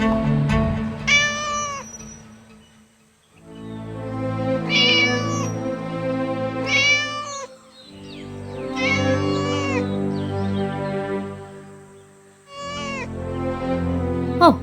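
A cat meows repeatedly, drawn-out and plaintive, in four or five separate calls with short pauses between them, close and clear.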